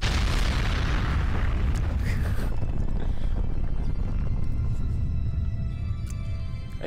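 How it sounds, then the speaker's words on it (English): A magical statue explosion in the Shadow of the Colossus video game: a loud, booming burst with heavy low rumble and bright crackling, then a long decaying roar and scattered sparkling tones that fade over several seconds. "we get the magical explosion of the statue"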